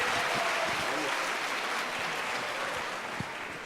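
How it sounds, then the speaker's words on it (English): Dense, steady applause from an audience at a STEM education event fills the whole stretch as a continuous wash of claps that tapers only slightly at the end. "give him a round of applause"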